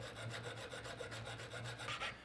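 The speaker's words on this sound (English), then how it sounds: "you're supposed to keep what you're sawing in line with the arm that you're actually using to cut it" A jewelry saw cuts through metal with quick, even back-and-forth rasping strokes, faint and close, repeating steadily with no talk.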